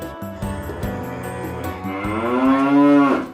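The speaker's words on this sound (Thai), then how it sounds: "ควาย" A water buffalo lows in one long, loud, rising moo that swells toward the end, heard alone with no talk over it.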